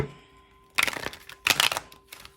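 Tarot cards are shuffled in two quick riffling bursts, crisp papery flutters up close, with a soft pause between them and quiet room tone around.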